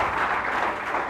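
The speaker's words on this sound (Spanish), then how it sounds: "¿Alguien le puede dar un aplauso fuerte a ese Cristo maravilloso?" A church congregation claps loudly and continuously for a moment during a Spanish-language Christian sermon, a dense wash of applause filling the space.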